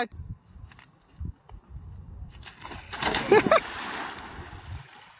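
A splash of a swimmer jumping into open water, one burst of spray in the middle of the clip, preceded by faint thumps and low background murmur.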